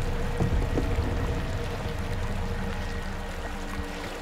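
River water in Outlast 2 gurgles and pours along a current, a continuous close splashing flow with a few small sloshes early on and no speech.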